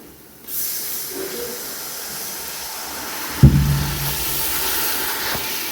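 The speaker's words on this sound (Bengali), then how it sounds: "একটু পানি দিলাম" Water splashed into onion and chilli masala frying in a pan. A quiet, steady sizzle is broken partway through by a sudden loud burst of hissing steam, which then settles into a stronger simmering hiss.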